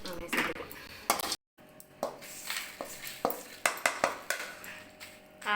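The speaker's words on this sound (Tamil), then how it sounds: "மசாலா அரைக்கிறதுக்கு ஒவ்வொன்றா போட்டு வறுத்து எடுத்துக்கலாம்" Whole spices such as dried pepper, cumin, fennel, cinnamon, cardamom and cloves are dry-roasted in a pan, with repeated metallic clinks and scrapes of a spoon against the pan, close and fairly quiet.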